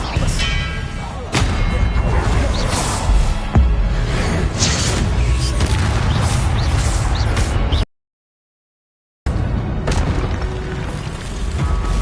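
Expelliarmus spell cast in the video game Hogwarts Legacy, booming magical blasts and thuds layered over dense game action, loud and repeated, with a brief full silence partway through.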